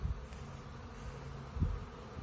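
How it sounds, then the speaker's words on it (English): Honeybees on orientation flights buzz around a bee yard on a summer day, a soft continuous drone with one nearer bee passing briefly louder, no talking. "We got some orientation flights going on here."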